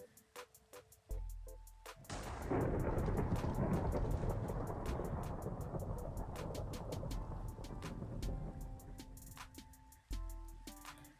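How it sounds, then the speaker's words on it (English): Thunder in the Minecraft video game rolls in as a long, heavy rumble with steady rain hiss. It follows a short burst of game tones and ends with them again, loud and without any voice. "I'm going to turn it to thunder,"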